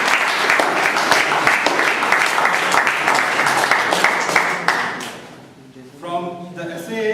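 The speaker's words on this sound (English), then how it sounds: "let's give him a big round of applause" An audience gives a big round of applause at a formal gathering, with dense sustained clapping for about five seconds before it fades out and a voice begins speaking.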